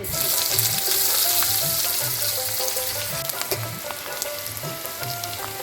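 Onion frying in hot oil with bay leaves and dried red chillies in a pan for a fish-head mashkalai dal, a loud, dense, continuous sizzle heard close up with no talking.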